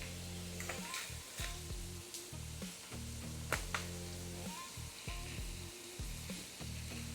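Ground taco meat sizzles and crackles steadily in a hot pan with regular taco seasoning, the loud frying noise running throughout alongside a low rhythmic pulsing hum.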